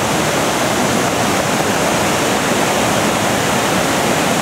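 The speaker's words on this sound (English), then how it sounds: "here's another waterfall" A waterfall roars nearby, a loud, dense, unbroken rush of falling water that holds steady with no voices.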